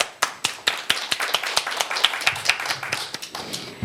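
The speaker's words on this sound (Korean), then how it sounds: "여러분, 아주 큰 박수 부탁합니다." Modest audience applause at a fiscal policy forum, made up of a small number of distinct, rhythmic hand claps that stay fairly quiet and sound like only a few people clapping.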